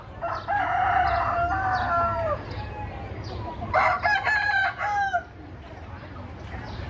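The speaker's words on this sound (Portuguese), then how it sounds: "Aqui mais galo caipira." A free-range rooster crows twice in close succession, loud and near, with some clucking in between over a steady low background hum, at a small-animal market in Teresina, Piauí.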